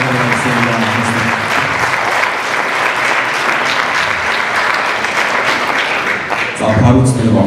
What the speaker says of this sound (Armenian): առաջարկում ծափահարենք